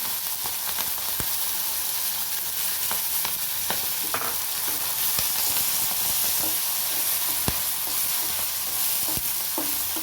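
Pirandai, the adamant creeper vine, sizzles and crackles steadily in a hot pan while being fried for chutney, with a constant hiss broken by occasional stirring knocks and pops.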